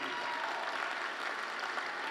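Steady audience applause at a downtown civic address in Fresno, a dense even wash of clapping from a large crowd, fairly distant and continuous without pause.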